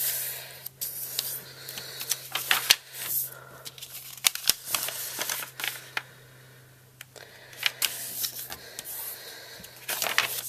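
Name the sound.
double-sided paper being folded for origami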